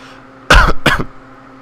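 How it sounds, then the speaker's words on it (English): Two quick harsh coughs or throat-clearing bursts from a man, close and loud, separated by a brief gap, with faint steady background hum around them. "I coughed too."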